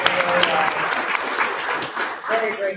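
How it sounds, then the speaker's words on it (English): Audience applause at a cannabis advancement conference panel, a steady wash of clapping across the whole stretch with talk mixed in. "Let's all give her a big round of"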